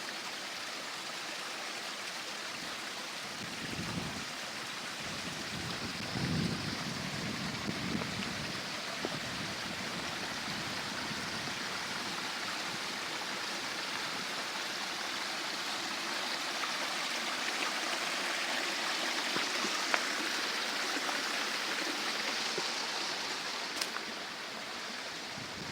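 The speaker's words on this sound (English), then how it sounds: "so here's where the waterfall starts" A waterfall and flowing stream rush continuously with a steady broadband hiss, close and even, with a few low thumps near the start and no talk.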